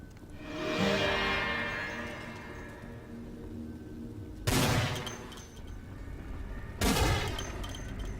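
Video game gunfire in a vampire-themed combat scene: heavy booming shots land at intervals, each blast followed by a long rumbling decay, loud and close over a steady background.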